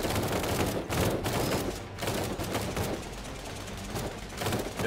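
Sustained machine gun fire in the Cepheus Protocol video game, a dense, continuous rattle of rapid shots with no pauses, loud and close throughout.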